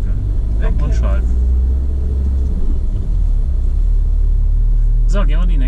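A car on a driving lesson gives a loud, steady low engine rumble and road drone throughout, with a brief dip around a gear change, while an instructor's voice talks over it.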